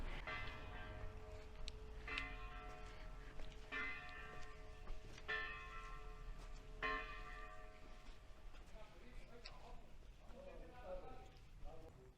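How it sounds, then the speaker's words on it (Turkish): Church bells ring from the clock tower in the medieval town of Chinchón, Spain, several resonant strikes spaced a second or two apart, heard at a moderate distance amid outdoor ambience and nearby talking. "Hatta şu an çanlar bizim için çalıyor."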